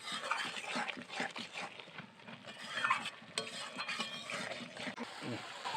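Chicken seasoned with salt and chili powder frying in a pan, soft sizzling with scraping stir strokes, fairly quiet and close, no talk.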